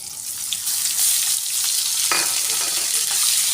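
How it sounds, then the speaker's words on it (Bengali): A paste of onion, garlic, ginger, chilli, coriander, cumin, salt and turmeric sautés loudly in a pan for a pointed gourd dish, giving a dense, continuous close sizzle with one sharp scrape of stirring. "এটা বেশ করে কষিয়ে নেব"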